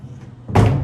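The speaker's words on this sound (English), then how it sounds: "And then there is a sliding door here" A sliding door in a Copper Creek villa at Disney's Wilderness Lodge shuts, a brief quiet glide followed by a sudden loud thud of the door meeting its frame.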